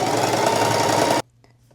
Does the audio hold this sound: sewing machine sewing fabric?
yes